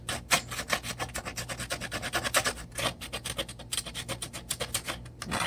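Hand file rasping along a channel edge on a 3D-printed part, a steady run of close, scratchy back-and-forth strokes with brief pauses, no voices.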